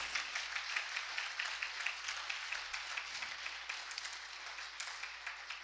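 A church congregation applauds during a sermon, a fairly soft, steady patter of many hands clapping in a reverberant room, heard alone without speech.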